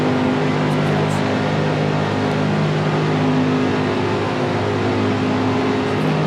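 A steady, droning race car engine from the racing video game NR2003 hums continuously with a sustained low tone, no talking, loud and even throughout.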